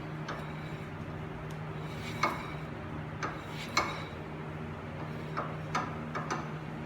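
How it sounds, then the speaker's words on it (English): On a Nissan 350Z with the wheel off, a loose brake rotor spins on the hub and gives light metallic ticks and clinks at irregular intervals over a faint steady hum, close and quiet. "That noise is all right. It's the rotor,"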